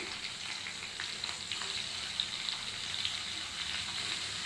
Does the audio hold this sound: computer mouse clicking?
no